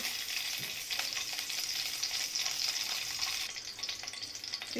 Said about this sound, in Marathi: एक चमचा साजूक तूप घ्यायचं आहे